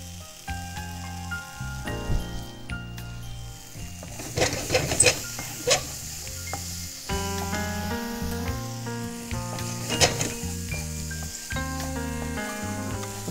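Pork fries in a pan with a splash of lime juice for chili pepper pork, a continuous hissing sizzle running under steady background music, with a few louder crackling flares.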